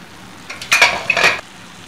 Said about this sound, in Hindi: अब मैं इसका कवर उठा लूंगी